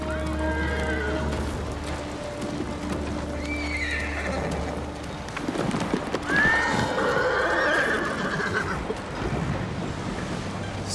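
A horse in the Ghost of Tsushima video game whinnies loudly near the start and again later, with clip-clopping hooves and a steady background hum throughout.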